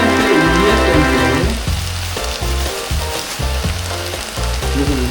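Tempeh tipped into a hot pan with garlic, frying loudly: a dense, steady sizzle with crackling spatter and stirring clatter, close and continuous, with background music layered underneath.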